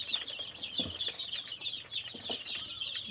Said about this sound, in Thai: ไก่เหลืองขาวชุดนี้ครับชุด ชุดความหวังนะครับ